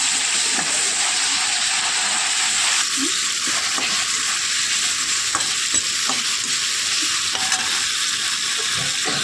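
Tomatoes stewing in hot oil in a pan for a Nellore-style okra and prawn curry: a loud, steady hissing sizzle with occasional faint clicks of stirring, close and without talk.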